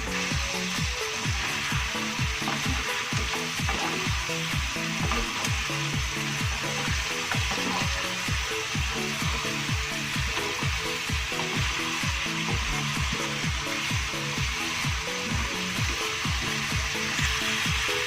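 Crab sizzles steadily in hot oil with curry leaves and pandan leaves while a utensil stirs and scrapes the pan in a quick, regular rhythm, close and loud with no talking.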